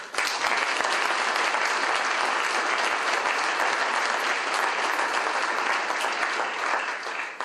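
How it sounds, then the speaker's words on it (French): Audience applause at a UMP public political meeting in Puilboreau, steady dense clapping filling the room, loud and continuous throughout without pause. "elles méritent vos applaudissements"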